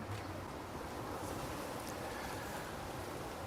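Ocean waves washing onto a Hawaiian shore, a steady broadband rush of surf blended with wind noise on the microphone, soft and continuous throughout with no distinct breaks or voices.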